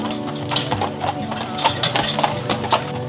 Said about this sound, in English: These are the carriages that can take you up.